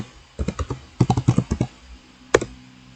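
Commands typed on a computer keyboard, heard close up as two quick bursts of clattering keystrokes and then a single firm key press, with no talk.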